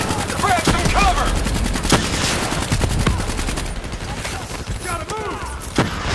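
Sustained enemy turret machine-gun fire in Call of Duty Black Ops 3, a steady rapid rattle with sharper louder bursts, while a voice calls out briefly over it.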